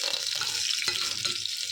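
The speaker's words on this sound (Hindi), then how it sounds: "अब इसको मैं तल रही हूँ कटहल को।" Boiled jackfruit frying in a pan, a steady bright hiss and crackle of hot oil that runs without a break, with a few soft stirring knocks and no voices.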